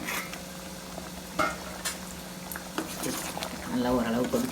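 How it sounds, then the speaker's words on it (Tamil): Ridge gourd kuzhambu, a South Indian curry, simmers in a pot with soft bubbling and sizzling, broken by a few clinks of stirring, under steady talk. "இப்போ இது நல்லா கொதிச்சுக்கிடட்டும்"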